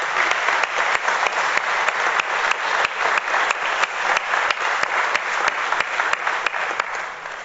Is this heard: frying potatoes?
no